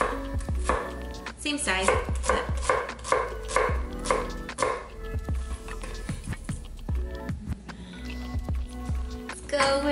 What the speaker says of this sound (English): Let's chop up this shallot in the same way that we did the onion.